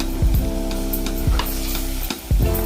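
Mutton and gram greens sauté in a pan, a steady sizzle broken by several scraping stirs of a spoon against the pan at close range.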